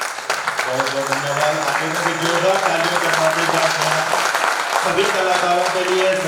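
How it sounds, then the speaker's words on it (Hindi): Loud, sustained applause from an audience honoring all the performing artists at a cultural stage event, with music-like tonal lines running underneath throughout. "आप लोगों की जोरदार तालियों के साथ सभी कलाकारों के लिए"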